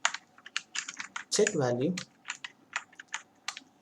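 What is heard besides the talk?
typing code on a computer keyboard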